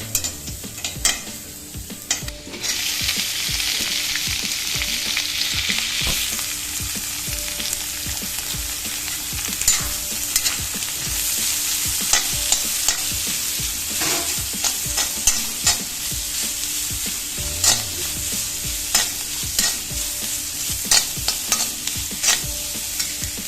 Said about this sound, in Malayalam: അതിന് ശേഷം നമുക്ക് സവാള ചേർക്കാം